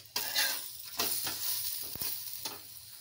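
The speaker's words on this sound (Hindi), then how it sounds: "2 चम्मच घी डालते हैं और इसे हम दोनों ओर से अच्छे से उलटते पुलटते हुए सेक लेते हैं" Puran poli frying in ghee on a hot pan, a steady close sizzle with a few soft handling and flipping sounds as the flatbread is turned to cook on both sides.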